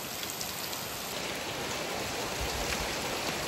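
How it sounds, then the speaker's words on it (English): Steady rain pouring outside a barn in rural France with its doors wide open, a dense, even hiss of drops on surfaces that stays constant throughout, close and fairly loud, with no voices. "And now it's raining even when I'm sitting inside the barn because the doors are completely open."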